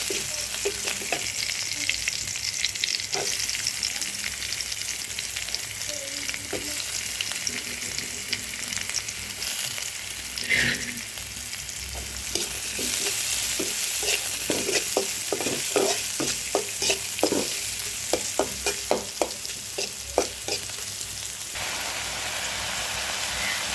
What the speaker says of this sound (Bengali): পেঁয়াজ রসুন একটু ভাজা করে মাছগুলো মিশাই নেব